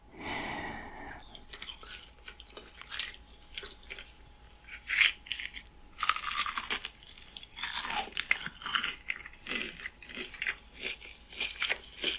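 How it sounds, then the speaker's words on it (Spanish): ASMR chewing and crunching, close and crisp. Repeated bites, grinding and rasping crunches keep an uneven rhythm, with louder bursts of crunching midway through. "No dejaban de masticar, aunque ya no tenían hambre."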